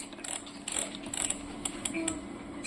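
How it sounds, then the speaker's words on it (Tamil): An oven's timer knob is turned, giving a quick series of soft, close mechanical ratcheting clicks over faint background hiss. "ஜஸ்ட்டு இந்த நாபை ரொட்டேட் பண்ணல டைமிங் வரும்"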